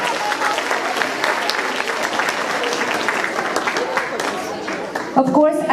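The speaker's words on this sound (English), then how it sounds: "So give them a round of applause for supporting you" A sixth-grade promotion and awards ceremony audience claps in a sustained round of applause, dense and steady, fading toward the end as a voice begins.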